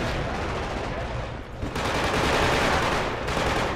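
Loud sustained automatic gunfire in the video game Killzone 2, dense rattling bursts that dip briefly around the midpoint and then return at full intensity.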